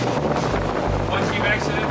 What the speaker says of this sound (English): Okay, excuse the wind noise again.